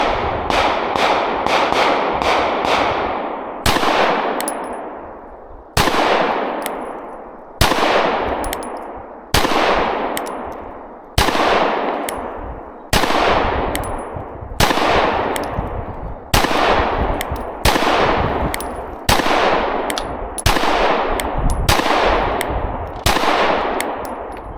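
A PSA Micro Dagger C-1 pistol fires mixed synthetic reloads and S&B ammunition: loud, sharp reports, a quick cluster at first, then a steady string of single shots about a second and a half apart, each followed by a ringing decay.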